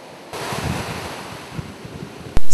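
Ocean surf rushes onto an eroding beach where the sea has broken through a natural barrier, a loud, close wash of breaking waves mixed with heavy wind buffeting the microphone.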